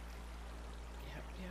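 Flowing water in Minecraft washes over minecart rails and carries them off, a steady close rushing stream with a voice faintly under it.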